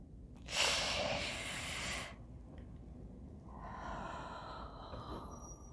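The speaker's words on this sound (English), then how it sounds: "How do you breathe in that? Watch me." A woman wearing a tight corset takes a deep, loud, close breath in, then a softer, longer exhale follows, with no speech.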